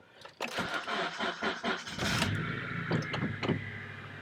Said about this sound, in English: So let me start this car so you can hear it.